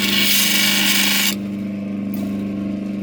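A power tool rubbing and polishing an opal, giving a loud, steady broadband grinding whine that cuts off abruptly partway through, leaving a lower, quieter hum of the motor running on alone.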